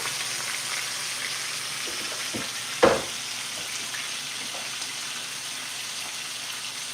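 T-bone steaks sear in a hot pan with a steady, close frying sizzle, broken by one sharp clack of utensil or pan about midway.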